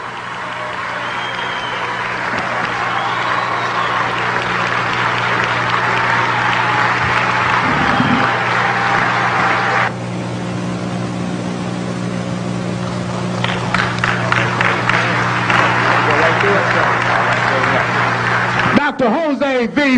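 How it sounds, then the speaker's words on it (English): Audience applause for Dr. Jose V. Piementa Bey at a lecture on the Moorish legacy: a sustained, dense wash of clapping from a crowd, steady and fairly loud throughout, with a low hum and some talk beneath. "a warm round of applause for Dr. Jose V. Piementa Bay."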